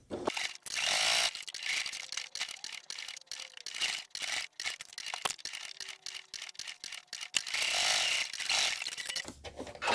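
A sewing machine stitches around three sides of a fabric hand-sanitizer pouch, with rapid mechanical clattering in bursts broken by short pauses, and a backstitch at the start and end.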